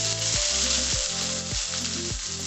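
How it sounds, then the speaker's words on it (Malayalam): Chopped onion fries in hot coconut oil with popped mustard seeds, a loud close sizzle with a steady hiss and periodic stirring thuds roughly every half second. "അപ്പോൾ ഇനി സവാള ചേർക്കാം."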